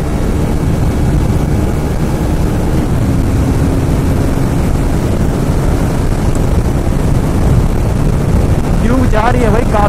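A KTM Duke 390 BS6 and a Triumph Speed 400 drag race at high speed, a loud, unbroken roar of engines and wind close to the rider, with a voice cutting in near the end.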